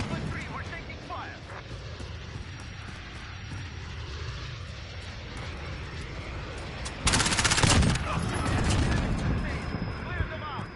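Video game battle gunfire with rapid bursts and heavy booming shots under a constant wash of combat noise and aircraft drone, growing louder and denser partway through, with voices talking over it.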